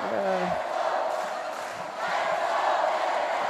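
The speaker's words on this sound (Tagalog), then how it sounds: "And you hear the crowd chanting." Crowd chanting and roaring at an NCAA college basketball game between LPU and EAC, a steady loud wash of many voices filling the arena throughout, with a brief swell near the end.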